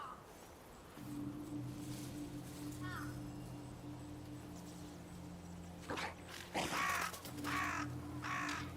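Crow-like cawing from a bird in the video game Ghost of Yotei, a few harsh calls heard late in the scene over a steady low game ambience and music.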